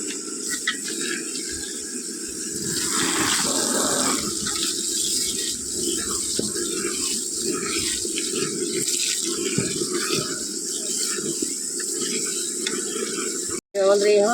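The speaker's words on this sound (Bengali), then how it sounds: "কচুর শাকটা ধুয়ে দিচ্ছি" Taro leaves are washed under a running tap, a strong continuous gush of water with splashing and shifting as the leaves are handled, briefly cutting out near the end before resuming.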